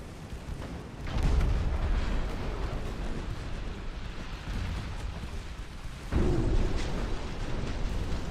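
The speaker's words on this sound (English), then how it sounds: "I think the Robespierre just took a torpedo." In a naval warship battle game, a torpedo strikes the warship Robespierre, heard as heavy rumbling booms that swell twice over continuous low battle noise.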